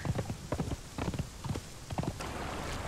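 Horse hooves clip-clop steadily in the game Conan Exiles as a mount is ridden, a rhythmic run of close, fairly loud beats that gives way to a softer, even rushing texture near the end.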